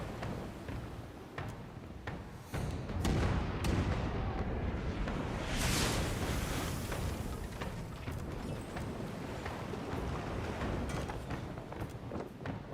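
Ship cannons firing in the Pillars of Eternity II video game: a dense run of heavy booms and blasts rolling over one another, loud and continuous with several sharper reports standing out.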